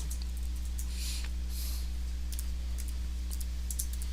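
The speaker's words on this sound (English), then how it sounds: "I'll go ahead and type up all the numbers" Soft, scattered clicks of keys being typed in short bursts over a steady low electrical hum.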